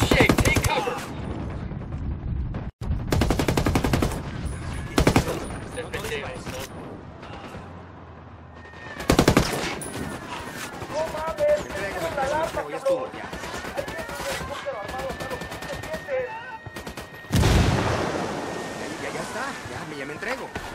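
Heavy gunfire from a Ghost Recon Wildlands firefight crackles in loud automatic bursts and single shots, with pauses between them while voices shout over the shooting.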